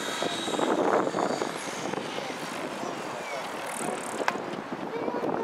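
A model helicopter flying aerobatic figures at a model aircraft show in Rybnik, Poland, whirs steadily overhead, its rotor and engine noise droning with wind buffeting the microphone and voices faintly in the background.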